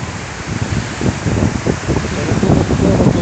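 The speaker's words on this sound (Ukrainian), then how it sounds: "Тобто це вітер, температура 32 градуси." Wind gusts buffet the microphone on a sunny beach in Georgioupoli, Crete, a continuous rushing roar with uneven surges, fairly loud and with no talk.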